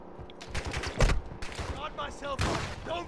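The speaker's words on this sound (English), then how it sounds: "You are taking effective fire." Automatic gunfire in the shooter Call of Duty DMZ: several rapid bursts of close, loud shots crack in clusters, with a voice speaking between and over them.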